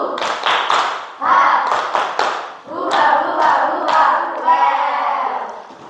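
A gathered audience performs a rhythmic group clap routine during an Islamic education lesson on Wali Songo, with sharp, patterned bursts of clapping mixed with loud chanting and shouting voices that rise and fall over several seconds.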